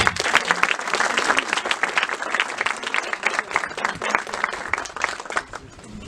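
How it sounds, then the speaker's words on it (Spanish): Audience applause at a lecture on oral trial and litigation techniques, a steady patter of many hands clapping close by for about six seconds, thinning slightly toward the end. "pido un fuerte aplauso, por favor"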